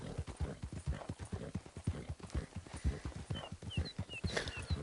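Horse hooves clip-clopping at a steady walking rhythm in the Red Dead open-world video game, close and continuous, with a few faint bird chirps overhead near the end.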